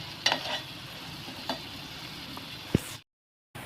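Onion frying in oil in a pan for a Marathi dry prawn curry, a faint steady sizzle with a few scraping stirs and clicks, ending abruptly in a brief silence.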